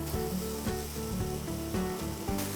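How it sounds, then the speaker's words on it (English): Minced chicken breast sizzles and fries steadily in a pan, a continuous close crackle with occasional stirring and no talking. "Cooking this for 5 to 6 minutes, and that's all it takes for minced chicken to be cooked."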